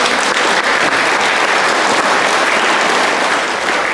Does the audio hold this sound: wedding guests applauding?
yes